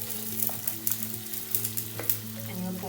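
Sweet pongal (chakkara pongal) stirred in a hot pan, with a steady sizzle and repeated soft scraping clicks from the spoon as the thick mixture is mixed, close and continuous, with no voices.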